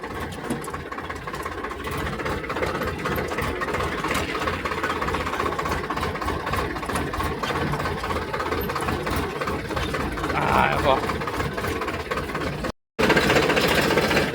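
A tractor engine runs on a bumpy village road, a loud, close, continuous mechanical chug with rattling knocks, holding steady with only a momentary cutout near the end.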